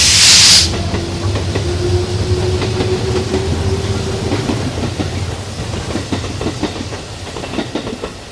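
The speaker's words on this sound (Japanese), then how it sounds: "蒸気機関車が走るんですよ、たまに。" A steam locomotive rolls past beside Umekoji Park in Kyoto, with a loud burst of hissing steam at first, then a steady rumble and rhythmic clacking of wheels on rails.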